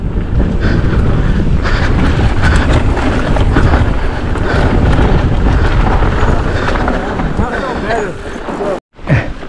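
Cross wind buffets the microphone while a Pivot Firebird mountain bike rides the Livewire trail at Northstar Bike Park, giving a loud, continuous roaring rumble that cuts out briefly near the end.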